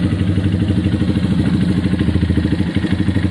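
A Honda CBF 125 motorcycle engine idles steadily just after its first start-up, a close, even putter with a rapid regular firing pulse and faint mechanical clatter, heard alone without talk.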